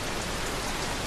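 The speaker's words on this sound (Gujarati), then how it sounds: "ભારે વરસાદ ખાબક્યો છે" Heavy monsoon rain pours down over a Gujarat village area, a dense, steady roar of drops hitting surfaces with no pause and no voices.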